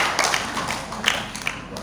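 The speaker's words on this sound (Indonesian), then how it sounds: "Tepuk tangan untuk Pak Rusli." An audience at an inauguration ceremony applauds with a dense, close patter of clapping hands that runs continuously, with a few louder slaps standing out.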